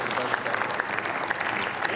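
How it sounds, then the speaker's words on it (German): Applause in the German Bundestag during a parliamentary debate: a dense, steady patter of many hands clapping in a large hall, moderately loud and continuous throughout. "Einziger Beifall."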